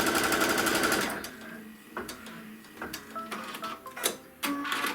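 A sewing machine stitches a trim line on a Kimberbell wallflower quilt, starting with a steady rapid whir for about a second, then giving way to scattered taps, clicks and short bursts of stitching at close range.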